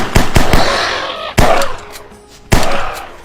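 Gunfire in the Dinosaur Island VR game as a player shoots at dinosaurs, with several sharp loud cracks: a quick cluster at the start, then isolated shots spaced about a second apart, each with a short decaying tail.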